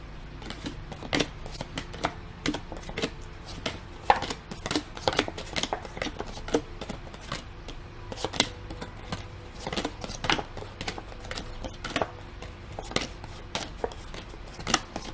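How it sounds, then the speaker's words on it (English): Tarot cards being shuffled by hand, soft crisp riffles and slaps repeating irregularly at close range in a quiet room, with no talking. "I will start shuffling the cards"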